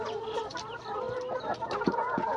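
A flock of laying hens clucks continuously at close range, with short, sharp calls rising above a steady cackling chorus.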